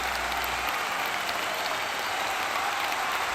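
A wrestling crowd before a match breaks into sustained applause and cheering, a dense, even wash of clapping that holds steady throughout at moderate loudness.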